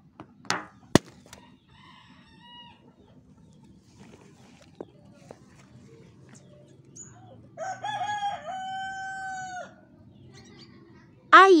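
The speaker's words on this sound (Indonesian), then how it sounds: "Ayam." A chicken clucks briefly, then a rooster crows clearly, a rising drawn-out call, with sparse clicks and quiet gaps between.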